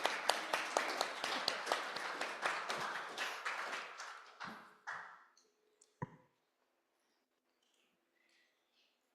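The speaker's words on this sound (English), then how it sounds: "Can you give all of our friends a round of applause?" A congregation at a Sunday worship service gives a round of applause, claps loud and distinct at first, then thinning and fading out. A last few scattered claps are followed by quiet.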